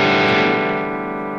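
Distorted electric guitar tone from a Line 6 Helix: a single loud chord struck and left to ring, thick and saturated, slowly decaying over a second and a half with nothing else heard.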